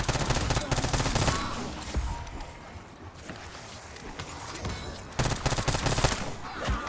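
Rapid bursts of C9 SMG fire in a video game, clustered volleys at the start and again near the end with a quieter stretch between, loud and sharp.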